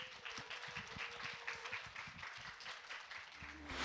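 Audience at a startup audition show clapping to open the event, a dense, even wash of applause heard at a distance and fairly quiet, with a faint voice near the end.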